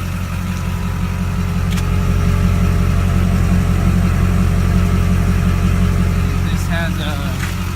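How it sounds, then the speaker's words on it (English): A lowered 2001 Duramax diesel pickup with an aftermarket exhaust and muffler idles steadily, its deep low rumble close and constant throughout, with a faint brief chirp near the end. "I'm not quite sure if it's straight pipe, I believe it has a muffler in there. It's an aftermarket exhaust."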